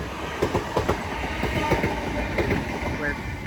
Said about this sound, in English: Soon to pass through now will be a southeastern stairs going from London Charing Cross to Gravesend.